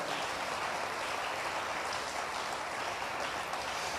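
A church congregation clapping for the Lord during a Pentecostal service, a steady dense wash of many hands heard from a distance, fairly faint and continuous without talk.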